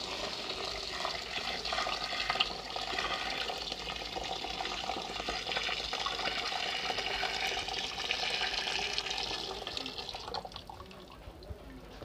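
Water pours steadily into a pot holding 5 kilograms of sugar for sharbat bazoori, a continuous splashing gush that runs for several seconds, then eases off near the end.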